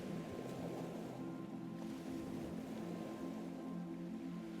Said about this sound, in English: She lets the sound of the water continue.